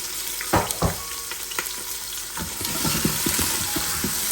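Half an onion and a tomato hit hot oil and fry with a steady broadband sizzle, punctuated by a couple of sharp clatters and spoon stirs, growing denser toward the end; no one speaks.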